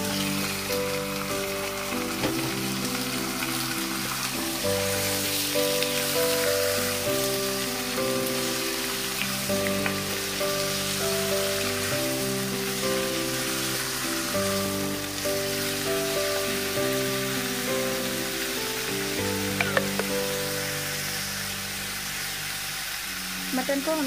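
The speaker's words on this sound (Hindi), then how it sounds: "मटन को हमें 2 मिनट तक अच्छे से भूनना है।" Mutton sizzles in a hot pan while being browned for a Bihari bhuna masala, a steady close frying hiss and crackle that continues throughout under a layer of musical tones.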